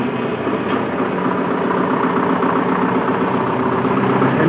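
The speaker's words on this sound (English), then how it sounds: "So we're going to go ahead and hit start." A MEP-004A military tactical generator engine runs loud and steady close by, a continuous droning idle with even vibration throughout and no voices.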